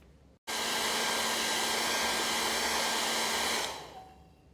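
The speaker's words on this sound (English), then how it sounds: "The paper is dried with the hairdryer." A hair dryer switches on abruptly and blows with a steady, loud whoosh for a few seconds, then winds down as it is turned off.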